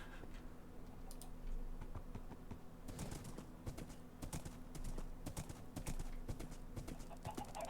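Spirit Horse hooves clip-clop in a video game, with quick, irregular clusters of light clicking steps that come in bursts over a faint steady hum, quiet overall.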